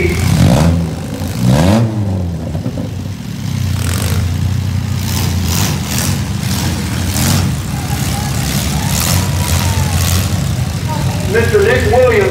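Demolition derby 4-cylinder car engines, a Toyota Camry among them, revving steadily at a county fair, loud and continuous with rising and falling pitch while an announcer talks over them.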